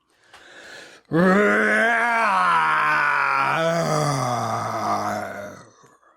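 A storyteller imitates a lion's roar with a long, loud, growling vocal roar that swells in and holds for several seconds before fading, preceded by a brief breathy intake.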